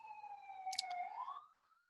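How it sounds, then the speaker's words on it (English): Faint distant ambulance siren with a slow wailing tone that rises and then fades, accompanied by a brief click partway through. "there's a little bit of ambulance here."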